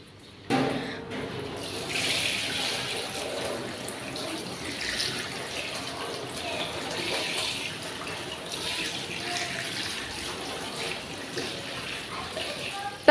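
Vegetables are washed in a bucket under running water, a steady splashing flow throughout with a voice talking over it at times.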